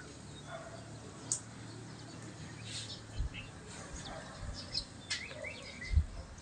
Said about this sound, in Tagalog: Daming ibon sa umaga.